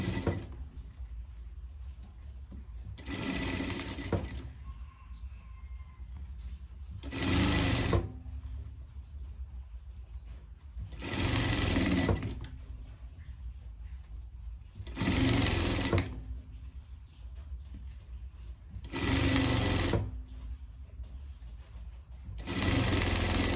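A sewing machine stitches a seam on a greyhound coat in five or six short whirring bursts, each a second or so long, separated by quieter pauses of fabric handling.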